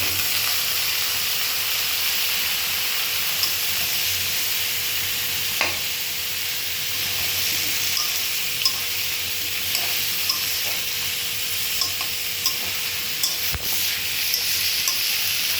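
Bottle gourd pieces frying in hot oil for a rui fish curry, with a continuous close sizzle and hiss and occasional sharp scraping stirs and utensil clicks throughout.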